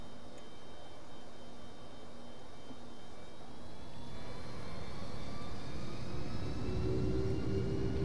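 A low, steady engine hum and rumble with a faint whine rising slightly toward the end from an EasyJet airliner taxiing in Flight Simulator X.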